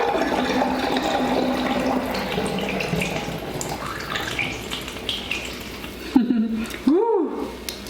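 Fizzy soda water is poured into a glass of mint lemonade, a steady liquid pour with bubbly hiss that rises briefly in pitch near the end, fairly close, with a voice heard speaking.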